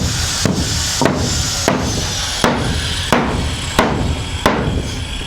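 Nails hammered into a wooden house floor: seven or eight sharp, evenly spaced blows ring out close by, each followed by a short decay.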